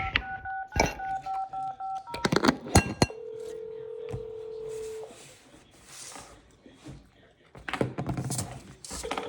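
Telephone keypad tones beep in quick succession as a number is dialed inside a truck, followed by a long steady tone, with clunks and bursts of handling noise around them.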